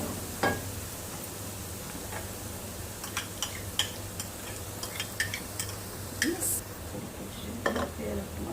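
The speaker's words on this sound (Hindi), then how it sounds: "भुनने तक प्याज और भी थोड़ा हो जाएगा गोल्डन। इसको गोल्डन करना है प्याज को, लहसुन अदरक।" Onion, garlic and ginger frying in a pan for a Punjabi bhindi chicken dish, giving a steady close sizzle with scattered clicks and scrapes of a utensil against the pan throughout.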